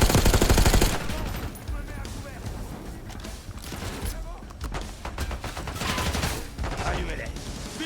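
Rapid gunfire and machine-gun bursts in a Call of Duty Black Ops 6 firefight, loud and sustained, with a heavy burst at the start and repeated shots mixed with shouted voices and battle noise.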